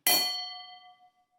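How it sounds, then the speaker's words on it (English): A single meditation gong struck once, ringing with a bright metallic attack and a long, slowly fading shimmer that dies away within about a second and a half, heard alone in quiet. "we listen for the gong that starts and ends that time."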